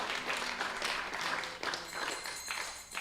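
Applause from an audience at an ISKCON temple event in Dallas, a dense steady patter of clapping for about three seconds, moderately loud and fairly close.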